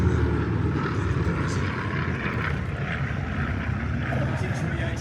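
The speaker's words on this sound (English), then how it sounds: "It's a Navy carrier-capable aeroplane with a thumping big radial engine, 9cylinder." A T-28 Trojan, a Navy carrier-capable trainer with a nine-cylinder radial engine, drones steadily at an airshow in Wanaka, New Zealand, a loud continuous roar with no break in it.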